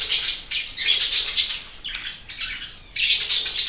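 Birds chirp and squawk steadily in the background in bursts of bright, busy calls, fading briefly in the middle and then swelling again, with no talking.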